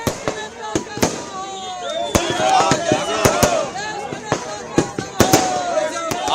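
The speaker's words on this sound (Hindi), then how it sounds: "आतिशबाजी की गई।" Fireworks and firecrackers crack and pop repeatedly at a political celebration in Hyderabad, sharp bursts scattered irregularly over a busy crowd din, with whistling rockets rising between the bangs.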